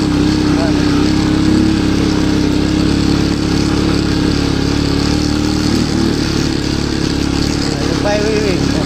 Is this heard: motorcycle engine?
yes